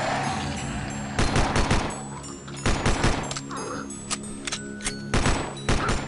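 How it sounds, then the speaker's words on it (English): Rapid Glock pistol fire in the zombie shooter game Land of the Dead: Road to Fiddler's Green comes in several quick bursts of sharp cracks over a constant game background. "At least the Glock fire is really fast."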